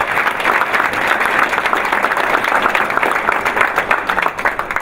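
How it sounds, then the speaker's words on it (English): Steady, loud audience applause fills a ceremony hall at an induction event, dense clapping sustained evenly throughout without a break. "Let's give Mr. West another round of applause"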